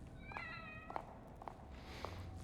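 A cat meows several times in The Evil Within video game, each call short and rising against low steady background rumble, with no voices.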